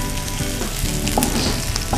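Mustard seeds, cumin, chillies and onions sauté in a hot pan, giving a steady, close sizzle and crackle with occasional stirring scrapes.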